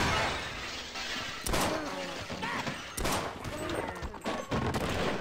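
Sniper gunfire in the video game They Hunger: sharp, loud shots burst out every second or so over a continuous noisy game backdrop, with a few overlapping cracks and rumbles.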